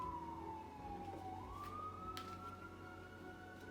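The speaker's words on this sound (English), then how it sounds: "Those sirens are not stopping" Emergency vehicle siren wailing faintly in the distance outdoors, a steady rising and falling tone over a quiet background.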